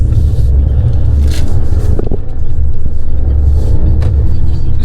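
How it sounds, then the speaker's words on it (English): A front-wheel-drive Jeep Renegade's engine drones loudly at full throttle through a corner, heard from inside the car as a constant low rumble with road noise and a few brief scrapes and knocks. "we'll just mash the throttle round the corner and see what happens"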